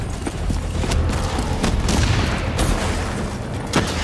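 Turret gunfire in Call of Duty: Black Ops 3, a sustained close barrage of rapid booming shots with sharp cracks layered over a constant rumble.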